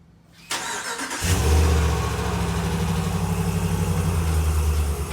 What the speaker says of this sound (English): They're about to back the truck out, so you get a little Hemi Ram cold start.